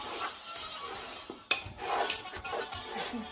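Salt being mixed into jollof rice ingredients in a pot, heard as intermittent scraping and rubbing of a utensil against the pot, with a sharper clack midway, fairly faint and close.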